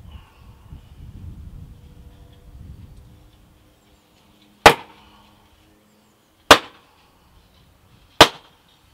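A piece of spruce splits three times in sharp, isolated cracks spaced a couple of seconds apart, preceded by soft handling noise and then near silence.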